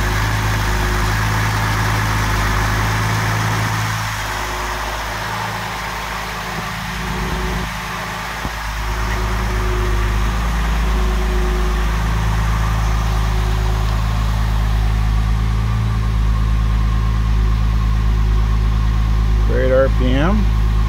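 A car engine idles steadily at close range, a low continuous hum that stays even throughout, while someone speaks briefly over it.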